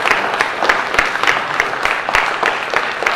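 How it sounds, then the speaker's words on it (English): A congregation applauds during a Sunday church worship service, with close, loud and uneven clapping throughout and no talking. "Please applause."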